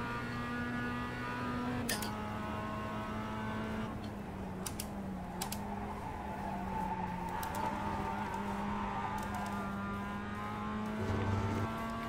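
A Mazda MX-5 race car at VIR in the iRacing video game, its engine droning and shifting pitch through gear changes and corners, with brief clicks and rising revs near the end, heard alone.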